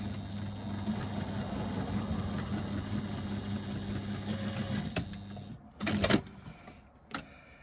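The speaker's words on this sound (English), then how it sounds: "that's where I'm going to stitch" A sewing machine stitching two fabric pieces together, right sides facing, a close, steady mechanical whir for about five seconds, then stopping, followed by a few handling clicks and thumps.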